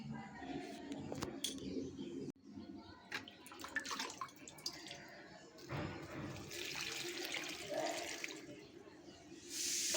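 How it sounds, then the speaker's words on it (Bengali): Potted plants being watered, with water pouring and splashing in bursts and rising to a louder gush near the end, while birds and pigeons call in the background. "তো চটপট জলটা দিয়ে নিই"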